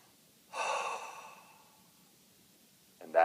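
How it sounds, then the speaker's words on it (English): A single deep breath, drawn in and let out as a long audible sigh during an EFT tapping round. It sounds close and fades gradually, and a brief sound follows near the end. "then you take a deep breath"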